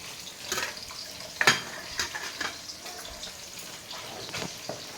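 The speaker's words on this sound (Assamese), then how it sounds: "এইটো মটৰ মাহ, তাক অকণমান ভাজিম" Peas fry in a pan while a spoon stirs them, making repeated scraping clinks against the metal over a soft, steady sizzle at close range.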